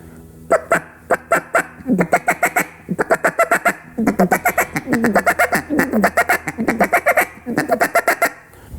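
A handheld duck call is blown to imitate a flock of ducks chattering, with a feed call and clucks. Loud, close bursts of quacking come in quick, uneven runs with brief gaps between them.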